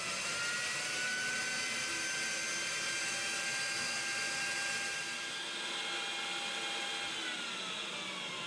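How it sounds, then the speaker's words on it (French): Motor of an atmospheric air sampler drawing air through a quartz filter, a steady continuous whirring drone with faint tonal whine, constant throughout and heard alone. "le moteur qui se trouve en dessous va permettre d'aspirer l'air."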